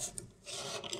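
A piano hammer being filed gently by hand with sandpaper, short close rasping strokes across the felt, a brief stroke near the start and then longer rubbing passes.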